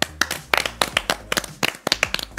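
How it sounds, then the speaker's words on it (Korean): A small group of friends clapping together in a room, sharp close handclaps in an uneven, loose rhythm, about a dozen distinct claps with brief gaps between them. "박수"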